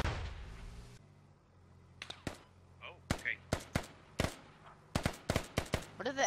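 Video game gunfire in Squad, heard as sharp separate shots in a rough rhythm that grows denser toward the end, with some faint distant reports between them. A voice speaks over the opening second.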